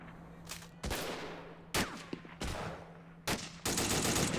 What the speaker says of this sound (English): that's a nice exchange of fire there. That Bren gunner trying to take down that Garand gunner back there.